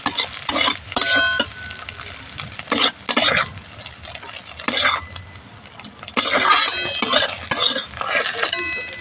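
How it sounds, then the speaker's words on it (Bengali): Egg fries in hot oil in a pan for egg chow mein while a spatula stirs and scrapes, giving steady sizzling broken by repeated metallic clinks and scrapes. "ডিমটা ভালো করে ভেজে নেব"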